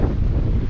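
Strong coastal wind at the Kugelbake beacon in Cuxhaven roars steadily across the microphone, a loud low rumble with faint surf-like texture beneath, no voices.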